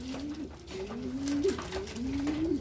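Racing pigeons coo in a loft, a steady series of soft, throaty calls repeating close by over faint background noise.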